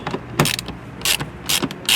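Ratchet with a 10mm socket working screws on the driver's side of a 2024-2025 BMW X5M Competition, giving several short, close bursts of quick ratcheting clicks separated by brief pauses, with no talking.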